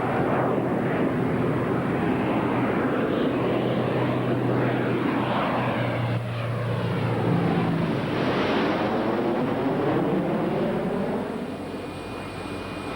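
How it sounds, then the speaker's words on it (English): A loud, continuous propeller-engine roar fills the air as a Tu-95MS turboprop bomber rolls along nearby after landing in the UK, the drone shifting slightly in pitch before easing toward the end. "Graceful touchdown from a graceful aeroplane."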